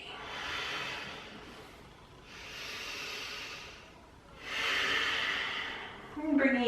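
Slow, deliberate breaths during a guided mindfulness stretching session, three long breath phases with gentle airy hiss, close and soft, each swelling and fading with brief pauses between, no talk over them.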